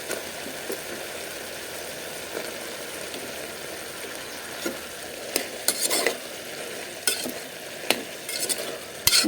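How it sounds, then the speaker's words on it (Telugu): Young, unpeeled eggplant pieces fry in a pan for a Telugu-style eggplant, ridge gourd and tomato chutney, a steady sizzle with occasional louder scraping stirs toward the end. "బాగా వేయించుకోవాలి"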